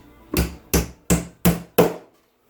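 Five evenly spaced hammer blows drive 1.25-inch nails into a wooden bee box, each a sharp, close, loud strike with a short decay, then silence.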